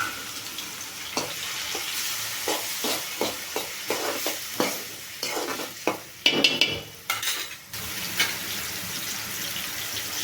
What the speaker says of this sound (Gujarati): અહીંયા આપણે ઝીણું ઝીણું છે એ ટમેટું કાપી અને લઈ લીધું છે એ નાખી દઈશું